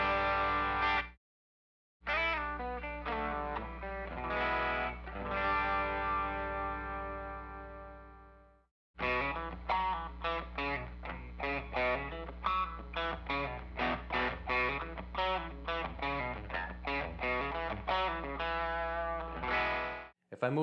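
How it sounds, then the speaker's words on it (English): An electric guitar on the bridge pickup plays through an MXR Timmy Mini overdrive pedal, producing a sustained, mildly driven tone. Strummed chords and picked notes follow, broken by two brief silences, with no talking. "So you can really hear that overdrive starting to kick in."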